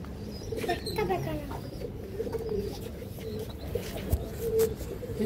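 Pigeons in a loft coo continuously in a low, steady murmur, with faint rustling and occasional flutters in the background.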